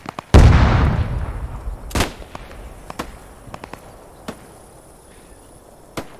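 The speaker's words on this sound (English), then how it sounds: "They're shooting something over there" Gunfire in the World War II shooter Post Scriptum during a village battle: one loud, close shot rings out, followed by scattered sharp reports from farther away at irregular intervals over a quiet background.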